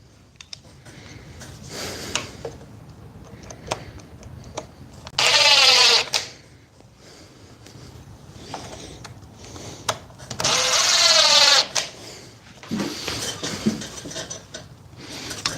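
Dewalt and FLEX impact drivers fire in short, loud, rattling bursts, two main runs of about a second each, with softer clicks, handling noises and brief clatter between them.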